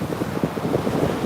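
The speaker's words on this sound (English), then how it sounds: "It's definitely getting windier." Wind gusts outdoors in a close, continuous rumbling buffet against the microphone, steady and fairly loud, with no voices.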